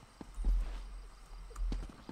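Horse hooves clip-clop in the Elder Scrolls Online video game: a few soft, fairly close hoofbeats over quiet ambience.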